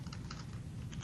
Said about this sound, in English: I'm going to click and start typing welcome to